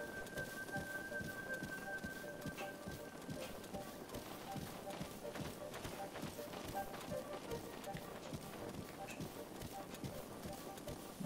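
Horse hooves clip-clop steadily at a gallop in The Legend of Zelda: Breath of the Wild, in Korok Forest, a fast, even patter over a dense ambient bed with soft chiming tones.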